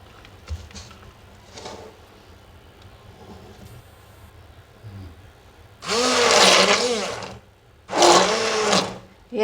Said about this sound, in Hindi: मेरे पास हैंड ब्लेंडर भी है तो मैं उससे इसको ब्लेंड कर लूँगी।